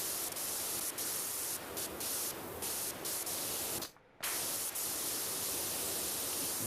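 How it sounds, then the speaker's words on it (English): Pressure washer spraying in the video game PowerWash Simulator 2, a steady, loud, broadband hiss running almost continuously with one brief cutoff midway before resuming. "We are going to come over here and spray some of these"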